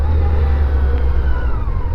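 Steady, close engine rumble with wind noise while riding a big Yamaha FJR sport-touring motorcycle on the road, continuous and loud throughout with no breaks.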